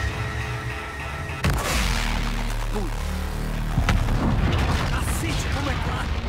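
Heavy booming spectral cannon blasts and rumbling explosions in a Call of Duty: Infinite Warfare battle, loud and close, with a short spoken exclamation over the din.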